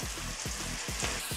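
Lamb stock ingredients sizzle steadily in a hot pan while being sautéed, a continuous close frying hiss with soft rhythmic stirring scrapes about every half second.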